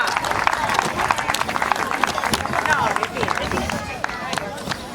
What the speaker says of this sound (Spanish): Un forte aplauso para Rosa, por favor.